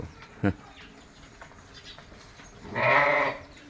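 A sheep in a concrete-floored shed gives one clear, drawn-out bleat near the end, following a short sharp knock and faint scattered farm noises.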